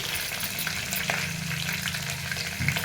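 Cumin, onion paste and curry leaves fry in hot oil, giving a close, continuous sizzle with soft crackles and faint stirring.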